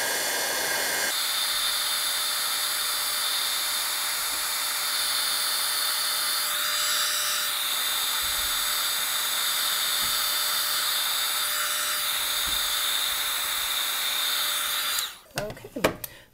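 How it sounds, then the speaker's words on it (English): A heat tool blows steadily to melt clear embossing powder on cardstock, a constant high whirring drone running nearly unbroken before cutting off abruptly near the end. "Then with my heat tool. And then as it starts to melt, you should be able to see it change."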